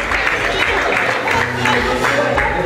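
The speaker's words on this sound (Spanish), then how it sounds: "Fuerte el aplauso para Nana y Jesús en la canción." Loud, continuous clapping from a crowd at a quinceañera party honoring Nana and Jesús after their song, dense and steady throughout with no gaps.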